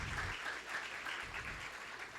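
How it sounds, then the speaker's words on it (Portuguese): Church congregation clapping for a man standing up during a sermon, a dense, sustained wash of applause from the whole room at even loudness, with no voices over it. "Eu faço questão, você pode aplaudir ao Senhor pela vida desse cara"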